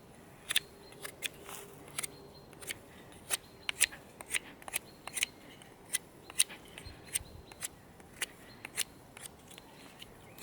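A Cheburkov Eger or Huntsman knife carves wood in sharp, dry clicking cuts. Irregular short strokes repeat steadily at close range, alone and without talk.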